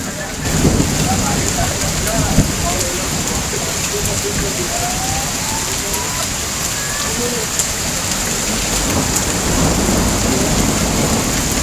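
Steady heavy unseasonal rain pours down on Badnera town while thunder rumbles low and continuous underneath; no voices.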